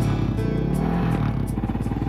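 A motorcycle engine idles and builds as a learner rider slowly lets out the clutch and adds throttle, a loud close chugging rumble with a slight rise in pitch.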